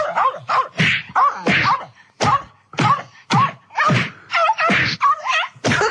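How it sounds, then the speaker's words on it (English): Comedic sound effect of a dog being beaten: a rapid series of sharp thwacks and smacks mixed with yelps and whimpers, loud and close, in separate bursts. "That's someone beating up a dog."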